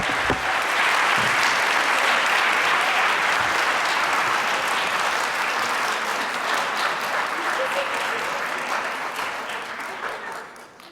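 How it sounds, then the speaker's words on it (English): Audience applauding a panel at a UNESCO youth forum on transforming education, a dense, sustained clapping that fills the hall for about ten seconds before thinning and fading toward the end. "I think we can give them a round of applause."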